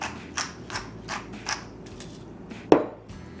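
Macaroni salad gets stirred in a bowl, a series of soft, scraping, squelchy strokes in a slow rhythm ending with one sharper clink of the utensil against the bowl.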